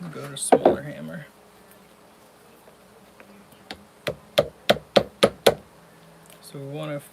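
A small hammer taps a metal peapod pendant with a quick run of about seven sharp, evenly spaced strikes, and a voice talks before and after the tapping.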